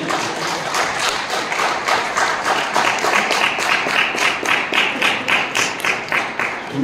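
An indoor audience at a business seminar claps in steady, fairly even rhythm for several seconds, the claps moderately loud and close with no voices over them.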